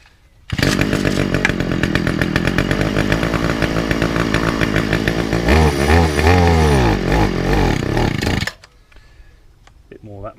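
Hayter cylinder lawnmower petrol engine fires up after choking and runs loud and close, a steady buzzing drone that shifts to a rougher, lower, wavering rumble near the end before cutting out abruptly.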